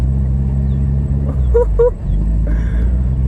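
A K20-swapped ES1 Honda Civic engine drones loudly from inside the car while driving through the gears, a deep steady rumble with a brief tonal whine in the middle.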